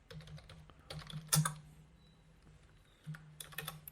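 Typing on a computer keyboard while writing web page code: quick clusters of key taps with short pauses, close and fairly quiet over a low steady hum.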